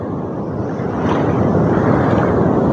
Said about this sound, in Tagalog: yung hampas ng alon ng dagat, yan oh, umaapaw.